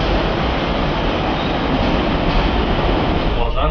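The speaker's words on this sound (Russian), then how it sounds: "Сейчас протестируем казанское метро" Kazan metro train running, a loud continuous rumble and roar of the carriage throughout, with a faint squeal near the end.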